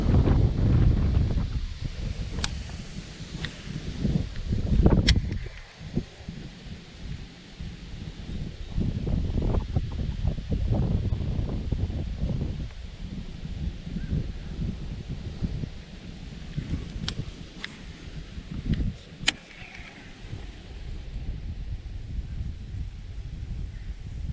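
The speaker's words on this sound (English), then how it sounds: "Wind's picking up here." Wind gusting outdoors on a fall bass-fishing outing, a continuous low rumble of buffeting on the microphone with rustling and faint water sounds, and a few sharp clicks.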